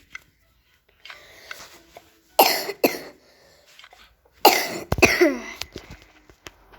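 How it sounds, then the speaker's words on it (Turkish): Several harsh coughs in two bursts, the first a pair of sharp hacks, then a longer fit of rough coughing, with quiet rustling between. "Hasta dedeler gibi öksürüyor"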